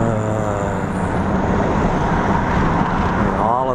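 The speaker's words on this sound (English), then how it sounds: "All of these cars are going." Road traffic near condos and strip malls gives a continuous loud rush of passing cars with engine hum and tire noise, and a voice speaks briefly over it.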